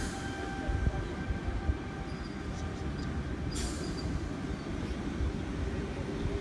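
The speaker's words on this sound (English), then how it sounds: "And a C-set arriving in the distance on platform number 5." A Sydney Trains C-set arrives at a platform at Redfern Station, heard in the distance as a steady low rumble with faint high squeals and tones above it.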